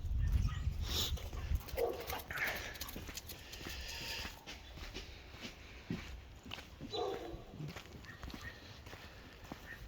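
A dog whimpers and gives muffled barks at close range over scuffling movement and footsteps.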